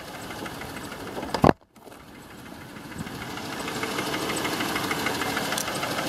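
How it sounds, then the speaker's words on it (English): A 2014 Dodge Charger, an ex-police car just started with a jump box, runs with a steady rhythmic engine knock beneath its idle after a sharp clunk, close and continuous with no talking. "I hear some knocking in the engine as well."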